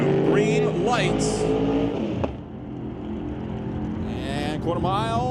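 Drag race cars at a bracket ET series event launch down the quarter mile, a Chevy II and a '34 Ford roaring loudly at full throttle and then fading into the distance, with a race announcer talking throughout.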